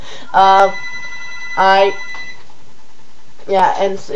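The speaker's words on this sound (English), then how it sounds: "Ignore the phone in the background." A telephone rings in the background of a room, three separate bursts of ringing spaced over a few seconds, clear and moderately loud.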